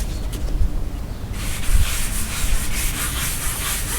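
Soft, close rubbing hiss as dry guide coat is wiped onto car bodywork on a Box Chevy Caprice LS, starting dull then brightening into a steady scratchy swish with faint knocks underneath.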